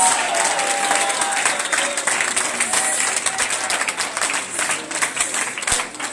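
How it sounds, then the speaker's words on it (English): Applause from an audience at a church revival service fills the room for several seconds, a dense, loud wash of many hands clapping with a few faint cheers. "Somebody clap for Jesus."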